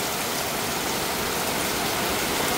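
Rain falling during a wet day in Bangladesh, heard as a dense, steady, even hiss of broadband noise with no pauses or voices.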